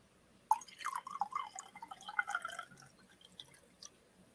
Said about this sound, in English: I'm going to do a little ASMR pour here.